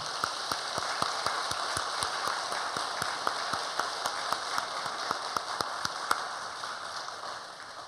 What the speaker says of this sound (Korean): 격려의 박수 보내주시면 고맙겠습니다